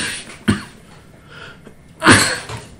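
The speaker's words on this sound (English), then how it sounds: "sorry, a little cough" Two short coughs, a small one followed by a louder, harsher one, close to the microphone.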